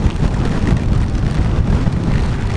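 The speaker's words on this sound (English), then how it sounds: "My wife and I are ready to get out of this rain and wind and freezing cold." Rain and gale-force wind buffet a rider on a Honda NT700 Deauville motorcycle in the Scottish Highlands, a loud, constant roaring rush heavy in the low end with no breaks or talk.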